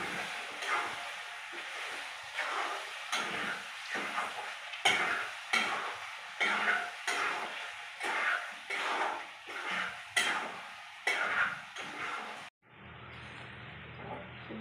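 Masala powders are being mixed into oil for chicken curry, a spoon scraping the pan in a steady rhythm of about a dozen strokes over a soft sizzle. The stirring stops abruptly and a brief hiss follows.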